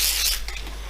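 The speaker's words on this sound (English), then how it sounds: "I took some basically WD-40. It's the Swedish version, and I just spray that on there." WD-40 lubricant, a Swedish equivalent, sprayed from an aerosol can onto a horizontal milling machine under restoration: one close, loud hissing burst that tapers off within a second, with no talk.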